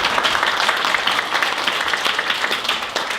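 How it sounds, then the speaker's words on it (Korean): Church congregation applauding a recovered member, steady dense clapping from many hands filling the room, fairly loud and continuous with no talk over it. "박수로"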